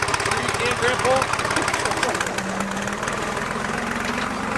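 A farm tractor's engine idles close by with a low, steady rumble and knock, while people talk over it outdoors in the mud.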